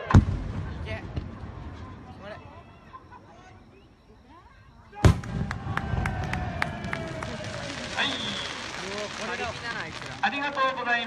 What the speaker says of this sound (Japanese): 以上メモリアル花火をお送りしました。